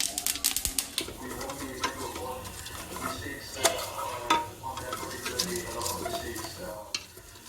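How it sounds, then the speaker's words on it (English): Whole spices crackle and sizzle in hot oil for Indian rajma masala, a dense close frying hiss with sharp popping crackles throughout, louder bursts early on, no talking. "you're going to hear the spices crackle and sizzle"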